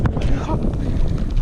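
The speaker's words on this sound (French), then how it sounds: "Ouh, le vent." Strong outdoor wind buffets the microphone in loud, rumbling low gusts that rise and fall unevenly while someone practises wheelies on a bike, with faint higher rustle above.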